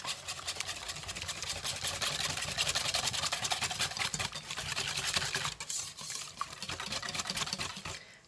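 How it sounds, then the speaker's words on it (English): Eggs and egg yolks whisked with wet ingredients for an Amish lemon loaf made with friendship starter, a rapid, steady scraping rhythm in a bowl, close and moderately loud, fading at the end. "we're just going to quickly kind of whisk this together so that all those ingredients"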